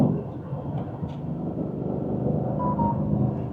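A 2025 Ford Mustang Dark Horse V8 rumbles with a deep, steady low growl, close and loud, holding a constant idle-like tone with slight swelling toward the end.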